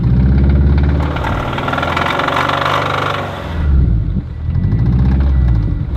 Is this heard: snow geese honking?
no